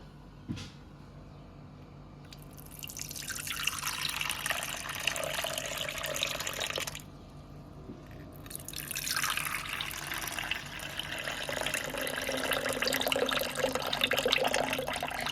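Mango ice water is poured in two long, splashing streams, each lasting several seconds with a short pause between, close and fairly loud with no talking.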